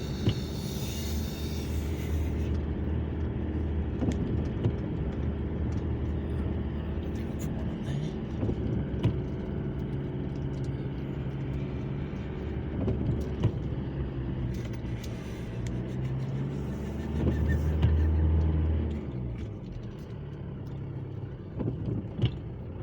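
A car creeps slowly around a full car park at an agricultural expo, its engine idling low and steady with occasional bumps and clicks, while someone talks on and off over the drone.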